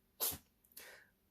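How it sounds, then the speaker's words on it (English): A house cat sneezes twice, close by, in a quiet room: one sharp burst followed by a softer second sneeze. "That was my crochet buddy, Kingston the cat, and he sneezed."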